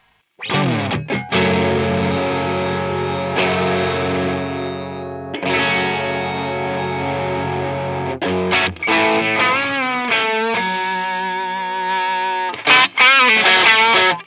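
Electric guitar pushed hard through a Cuvave overdrive pedal, loud and gritty with a noisy hiss, sustained chords ringing and then choppier picked notes and bends, steady and close with no talking.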